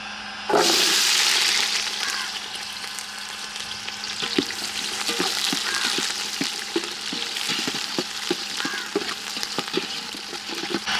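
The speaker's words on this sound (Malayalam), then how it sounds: "കടുക് പൊട്ടിക്കഴിയുമ്പോഴത്തേക്ക് നമുക്ക് കുറച്ച് കൊച്ചുള്ളി ഇടാം" Hot oil sizzles steadily as shallots drop into the pan after mustard seeds have popped, followed by a continuous crackling hiss with scattered pops and occasional stirring scrapes.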